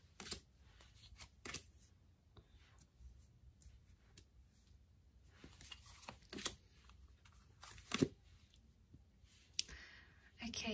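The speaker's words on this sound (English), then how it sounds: "So let's see what the cards can reveal for you." Tarot cards being shuffled: soft, intermittent flicks and riffles with light clicks scattered across a quiet background, faint and close.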